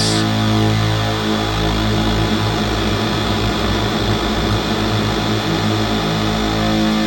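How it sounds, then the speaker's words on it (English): A Swarmatron synthesizer's dense, droning swarm of many detuned oscillators, loud and sustained, roaring steadily like a thick buzzing cloud with no pauses. "this sensor down here is actually what they call swarming the oscillators"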